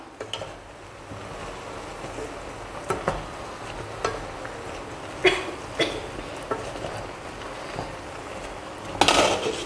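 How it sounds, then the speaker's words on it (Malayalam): A utensil stirs egg aviyal curry in a pot in a home kitchen, giving sporadic scrapes and metallic clinks against a quiet background, with a cough-like sound near the end. "നമുക്കിതൊന്ന് ഇളക്കി കൊടുക്കാം"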